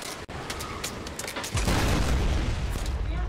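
Dense, rapid video game gunfire rattles continuously, growing heavier and louder partway through, with no voices.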